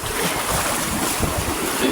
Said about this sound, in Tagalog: Oy, alon.